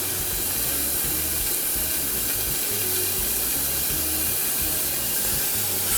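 Meat searing in a hot pan while making a meal from a frozen pizza, a steady loud broadband hiss and sizzle that holds without pause throughout, with no voices.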